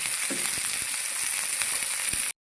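Sliced onions and green chilies frying in a pan, a dense, even sizzle with faint crackles throughout, close and continuous, cutting off abruptly at the end.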